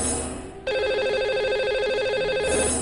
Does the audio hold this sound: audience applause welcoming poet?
no